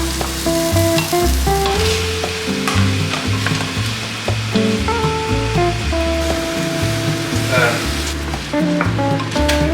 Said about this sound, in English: Onion goes in. We add the garlic now.